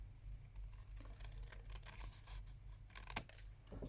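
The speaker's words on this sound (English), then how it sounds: "You're going to take some scissors and what you're going to do is cut round those curved lines" Scissors snip quietly along curved lines in paper in a few short crisp cuts, close by over a low background hum.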